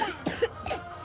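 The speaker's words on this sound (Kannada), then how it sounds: "ಕೆಮ್ಮೋದು ಹೇಳ್ಕೊಟ್ರಾ?" A young child gives a couple of short, soft coughs close by in a quiet indoor room.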